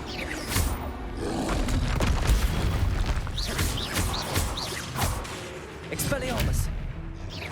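Booming magical blasts and whooshes from the Confringo explosion spell in the video game Hogwarts Legacy, several impacts in quick succession amid combat noise, with a voice talking over them.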